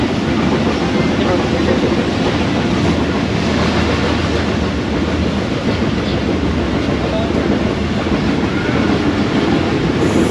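The Bahauddin Zakaria Express travels along the rails in a loud, continuous rumble with steady clattering close by from inside the carriage, and voices are faintly mixed in.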